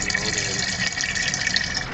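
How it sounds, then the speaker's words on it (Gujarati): Water pouring from a tap into a container at a filling point, a steady broadband gushing rush that stays loud and continuous throughout. "પાણી ચાલુ થઈ ગયું"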